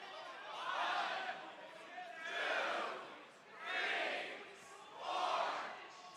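Crowd noise at a Pokémon card tournament, the 2025 Baltimore Regional Championships, rising and falling in four distinct swells of voices from a distance, each lasting about a second.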